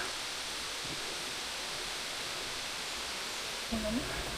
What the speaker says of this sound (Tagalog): Naririnig niyo na ba yung tubig?